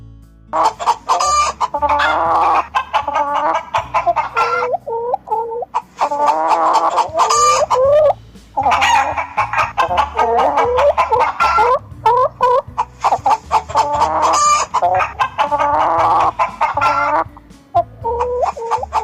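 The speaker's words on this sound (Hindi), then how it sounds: "hen को हिंदी में कहते हैं मुर्गी" A hen clucking and a rooster crowing, loud and close, with bursts of clucking broken by long crows that repeat several times over a farmyard backdrop, with no talking.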